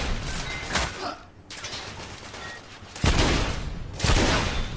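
Weapon fire in the video game The Order: 1886 comes as loud, sharp bursts, with heavy shots spaced a second or so apart over a continuous roar of battle noise.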